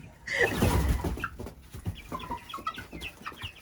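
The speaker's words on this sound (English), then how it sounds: "I think that one is a rooster." A rooster gives loud, close clucks and throaty calls, opening with a strong burst and then trailing into shorter, softer clucking.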